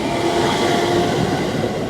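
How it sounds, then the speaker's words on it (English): A regular Tazawako Line train passes close by on tracks in Japan, a loud, steady rumble of wheels and carriages that continues without a break. "Oops, it wasn't the bullet train. It was the regular Tazawako Line."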